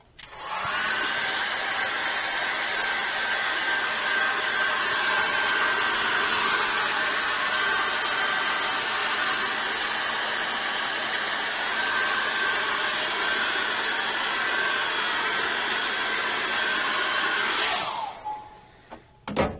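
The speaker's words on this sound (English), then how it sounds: "get the hairdryer and just dry that off quickly" A hair dryer blows steadily at close range, a continuous whooshing hum that cuts off abruptly near the end.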